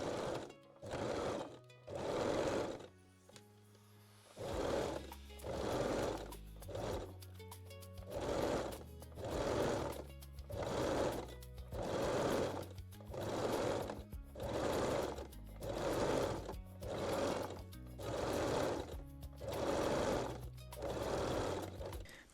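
A sewing machine stitches picot elastic along the bottom edge of a lace bralette, running in a steady series of short bursts with brief pauses between, close and clear with no talking.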